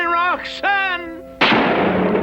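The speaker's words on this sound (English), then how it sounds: "Gunfire!" A sudden loud gunshot-like blast with a long rumbling decay, coming right after a sustained tonal voice.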